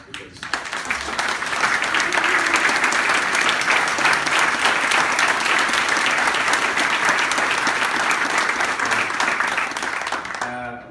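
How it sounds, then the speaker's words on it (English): Sustained audience applause at an evening teaching-award ceremony as the parents stand, a dense steady wash of clapping from a large crowd lasting about ten seconds and fading out at the end. "I'd like them to stand and actually give a round of applause"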